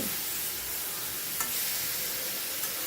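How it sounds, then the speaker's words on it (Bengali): Ridge gourd sizzles and fries steadily in a pan, a broad hiss with a couple of faint stirring clicks; no talking. "ঝিঙেটা আমার বেশ ভাজা ভাজা মতো হয়ে যাচ্ছে।"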